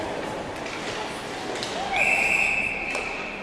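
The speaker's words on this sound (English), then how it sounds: "We'll blow the whistle here at 11:44" A referee's whistle shrills once, steady and piercing, over the murmur of an ice rink crowd during a girls' youth ice hockey game, holding for about a second before fading back into arena noise.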